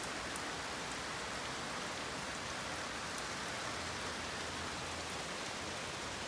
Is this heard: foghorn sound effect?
no